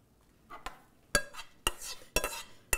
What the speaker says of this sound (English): all you have to do is gently, really fold everything